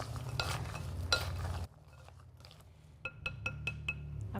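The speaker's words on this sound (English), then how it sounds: "Then I'm going to add in my walnut pieces and give them a stir to coat well in our egg white and bitters mixture." Walnut pieces are stirred into an egg white and bitters mixture, first a wet swishing scrape, then after a pause a series of sharp clinks of a utensil against the bowl.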